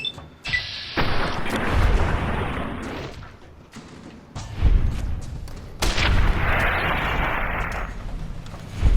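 Rifle fire in Fallout: New Vegas, with several loud, sharp gunshots and booming reports in separate bursts. Each blast carries a rough, noisy tail that rings across the clip.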